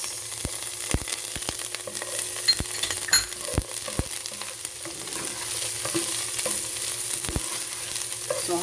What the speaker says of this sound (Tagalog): So haluin lamang natin at hintayin na lumambot ang sibuyas.